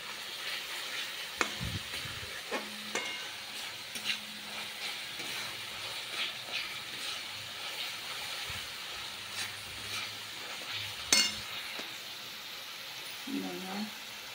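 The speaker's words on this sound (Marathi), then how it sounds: "मसाला पण चांगला भाजत आलेला आहे।" Masala spices frying in hot oil for chole, stirred with a spoon: a steady sizzle and hiss with occasional scraping knocks against the pan, close and moderately loud throughout.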